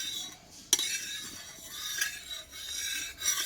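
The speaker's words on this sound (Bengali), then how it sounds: "খুন্তির সাহায্যে আমি চারিদিকটা এভাবে লাগিয়ে নেব" A spatula spreads oil around a hot tawa before frying a batter-based tiffin snack, giving a continuous soft scraping and rasping with one sharp metallic tick near the start, fairly quiet and close.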